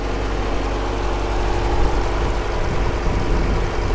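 A stock 6.4-liter Hemi V8 in a 2016 Jeep Grand Cherokee SRT idles with a deep, steady rumble, close and loud with no voices over it.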